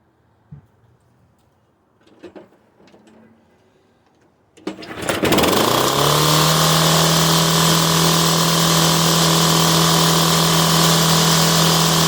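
MTD Yard Man riding mower, a roadside find, sits quiet with a few clicks and knocks before its engine cranks and catches, then settles into a loud, steady running drone close to the microphone.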